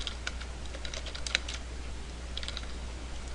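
Fingers tap a computer keyboard with light, scattered keystrokes that include repeated backspace presses, faint and close over a steady low hum.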